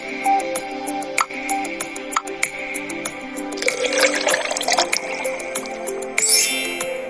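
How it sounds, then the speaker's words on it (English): Vinegar pours and splashes into a glass of soda for a few seconds, with light clinks of glassware before and after, close and fairly quiet. "Now pour some vinegar into it."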